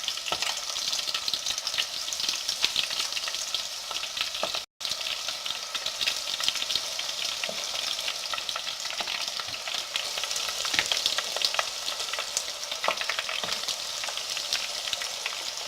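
Catfish nuggets sizzle and crackle steadily in hot oil, close and continuous, with bright popping spatters throughout and no talking.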